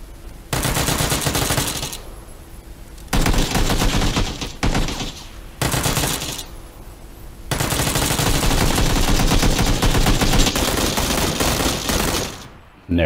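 Close-quarter gunfire in the PUBG video game: loud, sustained automatic bursts broken by short pauses, rattling close and dense for several seconds at a time.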